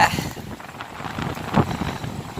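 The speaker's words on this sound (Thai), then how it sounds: "โอ้ยลมแรงเหลือเกินวันนี้" Strong wind buffets the microphone beside the Huai Buak Luang reservoir in Tak during bottom fishing, producing loud, gusty low rumbles that swell and dip, peaking in a sharp gust midway.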